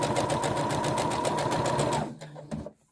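A sewing machine runs steadily, stitching a narrow folded hem on the end of a cummerbund, then slows into a few short bursts before stopping.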